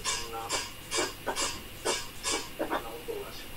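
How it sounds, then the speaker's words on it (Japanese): A Filipino balimbing, a long bamboo percussion instrument, struck in a loose series of about ten sharp, bright rattling hits, fairly close and clear with no talking over them. "バリンビンっていうやつなんですけど"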